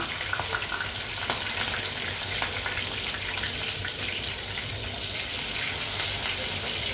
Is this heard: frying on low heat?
yes